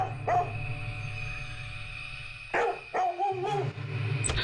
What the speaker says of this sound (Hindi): शुरू हो गया भौंकना